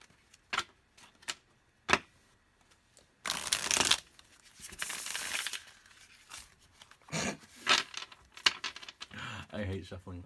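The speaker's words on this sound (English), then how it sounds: "I hate shuffling." Tyldwyck tarot cards being shuffled by hand: quiet scattered taps and clicks, then two short riffling bursts of card shuffling near the mic, with faint handling noises between.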